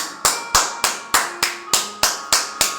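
A worship congregation claps in praise of Jesus: about nine loud, crisp claps land in a steady, even rhythm, close and with no talking.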